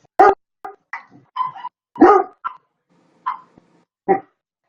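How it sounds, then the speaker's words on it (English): A Great Dane barks indoors in a living room, a series of deep, separate woofs spaced irregularly over a few seconds, close and loud against an otherwise quiet room. "The Great Dane right there."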